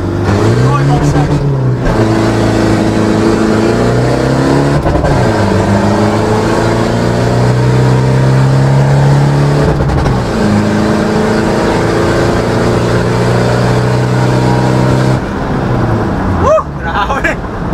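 Toyota Innova 2KD diesel engines revving hard in a loud, continuous roar, pitch climbing and dropping in repeated surges, close by, with voices shouting over the noise.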